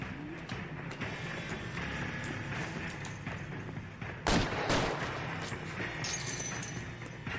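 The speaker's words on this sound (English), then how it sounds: "Oh, you're shooting, huh?" Gunfire rings out during an L.A. Noire shootout, several sharp shots spaced apart over a busy background, with one loud crack standing out midway, no talking.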